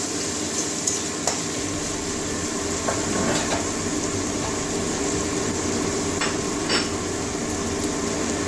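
Cut and washed potatoes frying in a hot pan for a potato and pea-leaf dish, a constant dense sizzle throughout with a few faint clinks, no talk.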